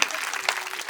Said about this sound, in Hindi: तालियां जोरदार पीछे